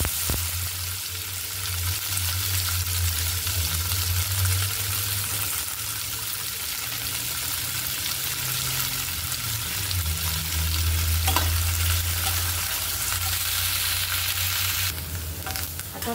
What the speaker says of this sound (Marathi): आपण शिमला मिरची भाजून घेणार आहे